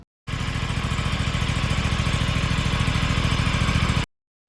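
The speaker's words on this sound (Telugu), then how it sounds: "మనం బైక్ తీసేటప్పుడు కొంచెం సేపు వార్మ్ చేయాలి బైక్ని" Aprilia RS 457 motorcycle engine idling to warm up on a cool morning, a steady, close, rapid pulsing throb that starts abruptly, holds an even beat for about four seconds, then cuts off.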